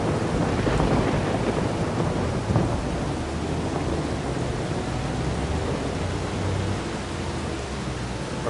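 Steady, heavy rainfall and rolling thunder from a thunderstorm in Farming Simulator 25, a dense continuous wash of rain with a louder rumble partway through and no talking.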